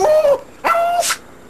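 A dog barks twice in quick succession, loud and close, each bark with a whining, tonal edge, followed by a short breathy burst.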